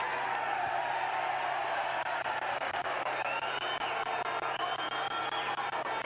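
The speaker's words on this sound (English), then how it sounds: "She's hearing it from the crowd for sure." A basketball arena crowd reacting to a player during a EuroLeague Women game between Spar Girona and Beretta Famila Schio. The crowd noise is a steady, wide roar that holds at an even level throughout.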